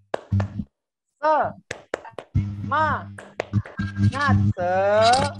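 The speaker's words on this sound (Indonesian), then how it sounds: "Tepuk semangat, yuk kita mulai, coba tak kasih contoh dulu ya." A teacher leads a rhythmic clapping chant with a group, crisp single claps and short clap bursts falling between sung and spoken lines, all close and clear.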